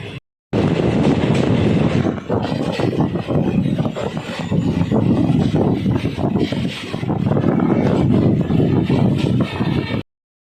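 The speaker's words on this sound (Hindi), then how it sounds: "काठगोदाम से निकलती हुई हमारी संपर्क क्रांति" The Uttaranchal Sampark Kranti Express departing Kathgodam station rumbles steadily along the rails with a continuous heavy roar and faint clatter, loud and close, with no voices.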